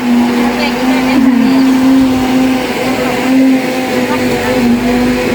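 A loud, steady motorized blender whir with a strong sustained hum, running continuously with voices talking over it.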